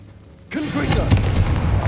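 A Confringo fire spell detonates in Hogwarts Legacy, a sudden loud fiery blast that erupts and then rumbles on as a sustained roaring burst.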